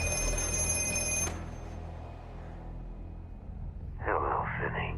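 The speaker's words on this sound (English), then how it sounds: "the phone starts ringing" A telephone rings in a film scene, one shrill electronic ring that cuts off abruptly, followed by a low background hum and then a voice speaking.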